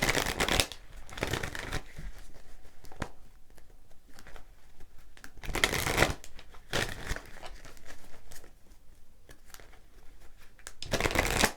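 A deck of Law of Attraction oracle cards being shuffled by hand, with several loud riffling bursts between softer sliding and crinkling card handling, close up and with no talking.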